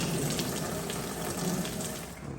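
Coolant and rusty water drain from an old RV motor, pouring in a steady, close splashing stream that tapers slightly toward the end, with no voices.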